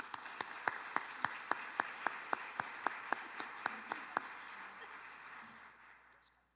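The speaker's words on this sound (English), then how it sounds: "So a round of applause." An audience at an evening school board recognition event applauds, a steady wash of clapping underneath a few sharper, evenly spaced claps standing out near the front, before fading out toward the end.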